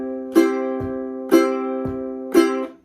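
An acoustic guitar chord is struck and left ringing unmuted, three times in a steady rhythm, each sustaining clearly until the next strum, with no talking.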